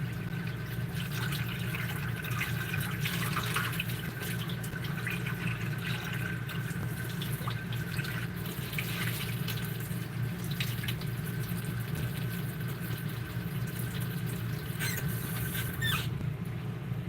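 Tap water runs steadily into a kitchen sink while a dish is rinsed, a constant splashing patter with occasional clinks, no speech.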